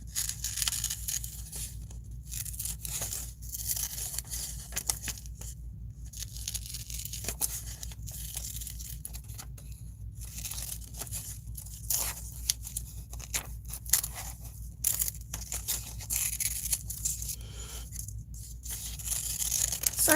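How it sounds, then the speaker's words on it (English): Scissors cutting a dress form picture out of paper for a collage, a steady run of soft, close snips and papery rustles spread over the whole stretch under a low background hum. "I'm just cutting this dress form out."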